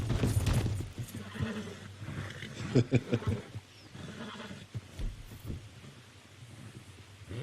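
A horse whinnies amid thumping hoofbeats and rumbling noise in Red Dead Redemption 2, the calls coming in short bursts near the start and middle, fairly close.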